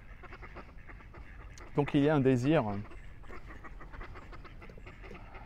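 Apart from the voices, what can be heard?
ducks quacking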